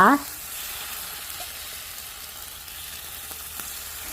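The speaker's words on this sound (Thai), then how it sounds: "จากนั้นค่ะก็ใส่ เนื้อห่อหมกที่เราผสมไว้เมื่อครู่เนี่ยลงไปลองก้นก่อนนะคะ" Seafood curry mixture of shrimp and squid sizzling in a hot khanom khrok pan, a quiet steady frying hiss after a brief clatter at the start.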